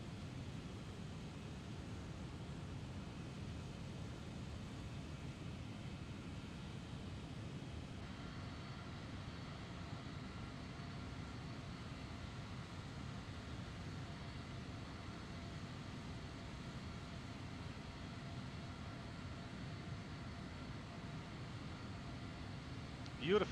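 Steady engine and airflow drone of a Swiss Boeing 777 airliner in the Prepar3D flight simulator, a continuous broadband roar at even level throughout.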